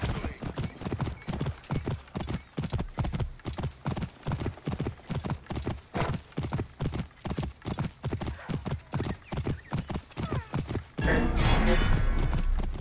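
A horse's hooves clip-clop in a steady, rhythmic gait in the Assassin's Creed Origins video game, close and distinct, before a sudden splash-like rush of water near the end.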